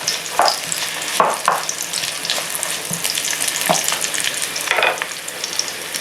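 Vegetables, onion among them, fry in a pan with a steady close crackling sizzle, broken by a few scraping knocks of a utensil stirring them; no talking.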